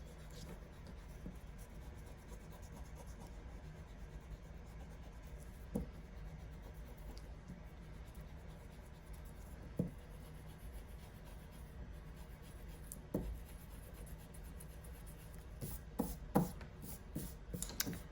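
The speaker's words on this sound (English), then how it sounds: "we're gonna go back with our eraser and erase our pencil marks." An eraser rubs out pencil marks on a sketchbook page, a faint, steady scratchy friction that runs throughout with a few sharper strokes and taps near the end.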